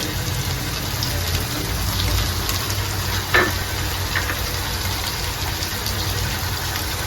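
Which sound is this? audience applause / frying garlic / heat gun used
frying garlic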